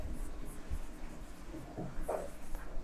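Marker or chalk writing on a classroom board, a soft continuous scratching with a few brief strokes, fairly quiet and steady throughout with no talking.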